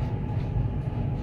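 A KRL commuter electric train runs along the rails with a loud, steady low rumble and a continuous rolling drone, heard alone.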